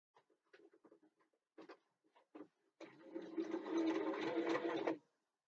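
Sewing machine pushing slowly through the bulky corners of a bookbag backpack, a few short stop-start bursts of stitching, then a longer steady run of about two seconds, close and clear with no voices.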